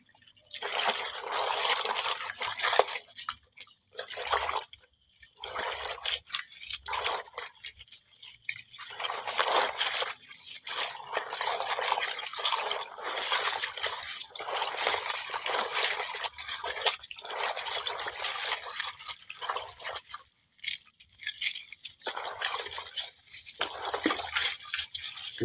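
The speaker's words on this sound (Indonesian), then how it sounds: "dicuci dulu, dibersihkan, khususnya sisa-sisa dari lendirnya telur kita bersihkan, kita cuci" Eggshells are washed by hand under running tap water to strip off leftover egg white, a steady splashing trickle lasting throughout with brief pauses as the flow is interrupted.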